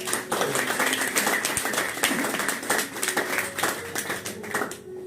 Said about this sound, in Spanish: Denle un aplauso al Espíritu Santo.